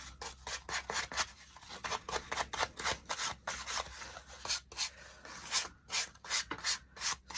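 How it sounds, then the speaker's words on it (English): Rhythmic rubbing strokes apply black wax to a scrap-wood craft piece, with soft, quick back-and-forth scrubs repeating in short bursts at close range; quiet, with no talking. "now I'm going to put some wax around it, so just black wax"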